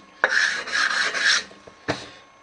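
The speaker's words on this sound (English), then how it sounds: "just quickly give it a rub down and make it smooth so there's no marks on there" Abrasive rasping on a soft steel lathe tool rest as it is rubbed smooth: three rhythmic back-and-forth strokes, then a short pause and one more brief scrape, close and fairly loud.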